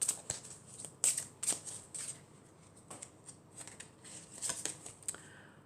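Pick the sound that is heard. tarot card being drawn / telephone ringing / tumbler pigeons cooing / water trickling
tarot card being drawn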